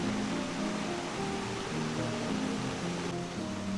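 Water from the Munsadong valley stream and waterfall on Dobongsan rushes in a steady, even hiss, with soft sustained musical tones layered over it.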